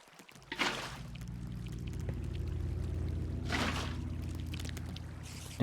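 Water placed in the video game Minecraft gives two short splashing pours a few seconds apart over a low, steady hum, moderately loud and without talk.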